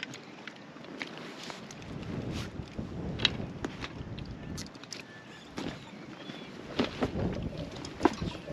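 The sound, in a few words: wind blowing at a bay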